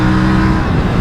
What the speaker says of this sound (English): But the engine, obviously fantastic sound.